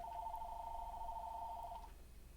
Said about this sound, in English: Now back to being disrupted by a phone call here.